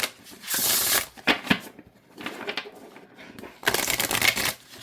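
An oracle card deck is shuffled in several crisp riffling bursts, close and fairly soft, separated by short pauses.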